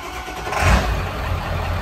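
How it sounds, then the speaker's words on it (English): A truck's engine cranks and catches after a PHP Hydra tune install, settling into a loud, steady idle rumble close by. "So now the truck should start."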